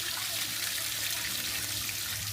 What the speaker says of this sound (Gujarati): તો હવે જો આપણે બીજું પાણી નીતાળી લઈએ.